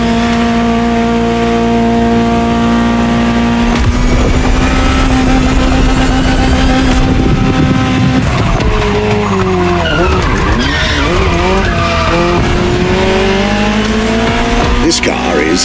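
A Ferrari 288 GTO in The Crew Motorfest roars loud and close, its engine tone climbing and dropping through the gears. Long tire squeals and skids mix in, and a voice talks over it.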